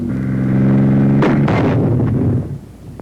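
Anti-tank weapon firing at a tank at close range: a sustained loud engine-like rumble, then a sharp blast near the middle followed by a second burst and crackling debris that trails off into quieter rumble.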